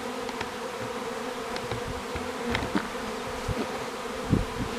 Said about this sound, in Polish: A teraz te pszczoły będę chciał szczepać.